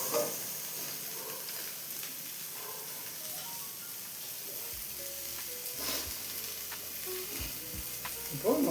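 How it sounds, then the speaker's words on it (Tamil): Chopped cabbage sautéing and being stirred in a pan, giving a steady soft sizzle with occasional scraping and stirring clicks, fairly quiet and with no talk. "கோஸ் வதக்கி ஒரு 15 நிமிஷமாவது கோஸு நல்லா வேகணும்"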